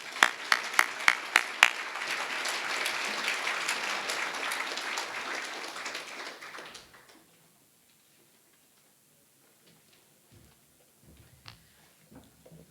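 Audience applause for honorary life members at an awards banquet, opening with a few sharp close claps before a dense crowd of clapping that runs about six seconds, then stops abruptly into near silence with faint scattered noises.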